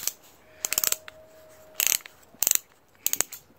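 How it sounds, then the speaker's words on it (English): The torque-setting collar on a SCANS 20V cordless drill driver is turned by hand, producing four quick bursts of crisp ratcheting clicks, close and fairly loud, separated by short silences. "You can adjust the torque settings over here."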